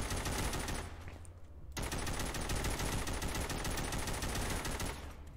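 Sustained rapid automatic AK assault rifle fire in the zombie shooter game Walking Zombie 2, loud and continuous bursts with one brief pause near the start, no voices over it.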